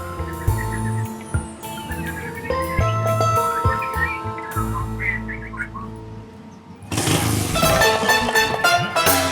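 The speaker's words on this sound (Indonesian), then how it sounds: "Tapi sekarang udah nyala motornya." A motorcycle engine idles with a steady, uneven putter, then revs louder near the end. Higher whining tones run over it throughout.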